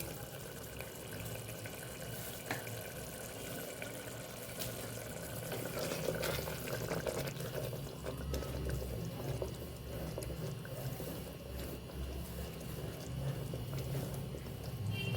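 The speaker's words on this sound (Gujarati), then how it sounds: "થોડું પાણી ઉમેરશું" Water is poured into a simmering Vadodara-style sev usal curry of peas, a steady splashing pour over a busy, noisy kitchen background with no talk.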